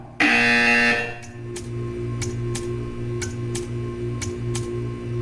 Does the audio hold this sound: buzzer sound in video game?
yes